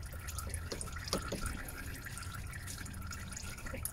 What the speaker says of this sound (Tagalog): Ayan, may tumutulo pa eh.